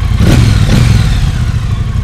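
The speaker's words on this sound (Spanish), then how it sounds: "el sonido es como el de un motor en V, lo cual lo hace pues más característico" A Triumph Bobber 1200 motorcycle with a 270-degree crankshaft parallel twin and a V-twin-like sound revs up close by, a loud, deep, throbbing rumble that swells and then holds steady at idle.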